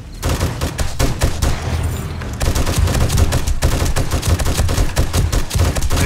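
Rifle fire in the game 7 Days to Die during a blood moon horde night, rapid loud repeated shots in near-continuous bursts with a short pause, close and dominant throughout.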